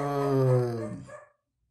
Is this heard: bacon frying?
no